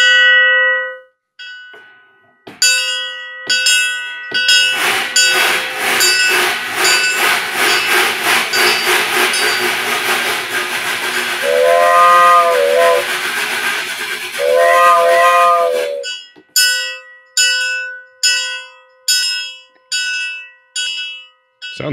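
Silent-film era trap drum metal effects evoking a train: a bright bell struck in quick rhythmic bursts, then a long loud hissing metallic roar with two short whistle-like tones, ending in more rapid bell strikes.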